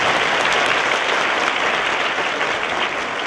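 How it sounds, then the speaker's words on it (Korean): Dense, steady applause from an audience at a university student forum in Korea, following a lecture, sustained and loud throughout without voices. "박수 부탁드립니다."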